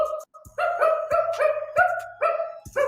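A person imitates a dog on command, giving a rapid series of five or six loud, close barks and yips in quick succession.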